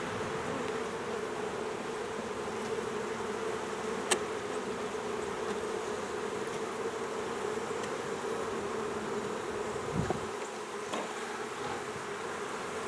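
Honey bees drone in a dense continuous buzz at an open hive beside a side fence in cold weather, close and steady, with a brief knock partway through and no speech.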